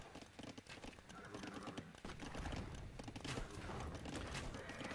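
Persian knight cavalry charging across a desert battlefield in a real-time strategy game: a dense, continuous clatter of hoofbeats mixed with battle noise that swells louder after the first two seconds, with faint talk underneath.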